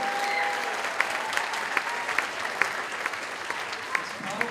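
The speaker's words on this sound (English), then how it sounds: "let's give them one more big round of applause" Applause from the audience at a high school spring band concert, a moderate steady patter of clapping with a few sharper individual claps and cheers standing out, fairly distant.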